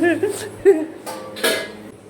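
Small clinks and knocks of a few utensils being scrubbed in a home kitchen, sharp and close, with short bursts of scraping and running water under a nearby voice.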